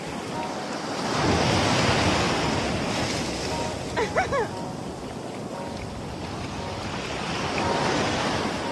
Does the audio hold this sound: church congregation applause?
no